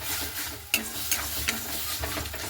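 Eggplant seasoned with salt, turmeric and Kashmiri chili powder is stirred in a pan with mustard oil, a soft continuous sizzle broken by a few light scrapes, close and fairly quiet, without speech.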